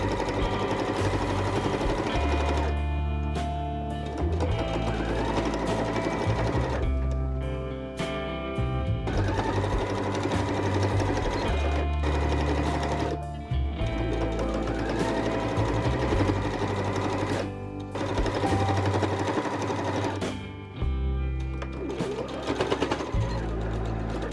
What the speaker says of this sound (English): While I was already at my sewing machine